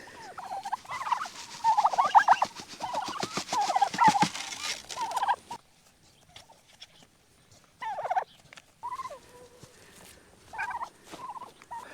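Turkeys gobble in repeated rattling bursts, loud at first, then a quieter stretch with a few scattered gobbles and soft calls further off.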